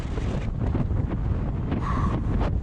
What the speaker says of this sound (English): The wind feels like a bunch of jets and it feels good.